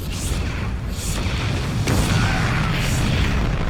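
Deep booming blasts roll out one after another as a building explodes and burns in StarCraft 2, rumbling explosions layered over a constant heavy background din.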